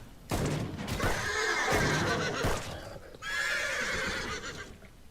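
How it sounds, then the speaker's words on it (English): A horse in the open-world survival crafting game Ars Notoria gives two loud, close whinnies, the first longer and rising, the second after a brief pause, with some hoof clatter around them. "Hey! That's my horse!"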